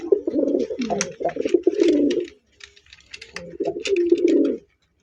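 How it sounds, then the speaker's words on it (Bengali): Baghdadi pigeons cooing close by: two long bouts of deep, throaty, rolling coos separated by a short pause, with light rustling and chirps around them. "এখানে একটা বাগদাদি কবুতর আছে"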